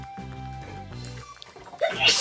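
A child's single sneeze bursts out near the end, while someone talks beside an inflatable paddling pool where children play with water, and a tonal toy or music sound runs underneath.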